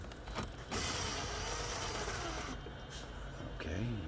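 A socket wrench undoing small bolts with a number 8 socket on the dash of a 2007 Chrysler 300, giving close mechanical rasping and ratcheting with brief metallic clicks, no talking.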